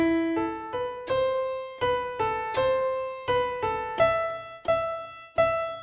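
A keyboard plays part of the Bella Ciao melody in simple single notes, about a dozen evenly spaced, clear and close, with no talking.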